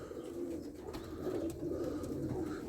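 Soft, low cooing of pigeons, continuous and murmuring, close by under a steady background hum.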